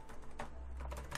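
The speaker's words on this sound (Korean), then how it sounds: "제가 키보드를 바꿨더니 좀 타이핑이 안 되네요" Typing on a newly swapped computer keyboard, a quiet run of soft key clicks in small irregular bursts over a low steady room hum, close and faint.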